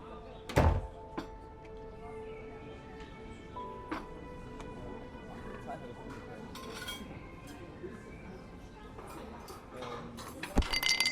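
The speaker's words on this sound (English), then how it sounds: "Close the door behind you." A door thuds shut with a loud, sharp knock early on inside a house gathering for a wake, followed by faint clinks of dishes and a second knock near the end, with quiet background voices.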